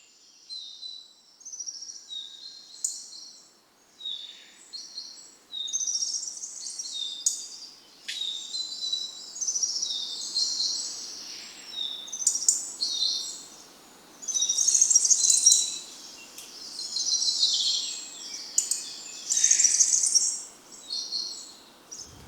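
Wild birds at Parque Biológico de Gaia sing in a continuous stream of high chirps and trills, varied and overlapping, over a faint insect hum, fairly near and with no talking.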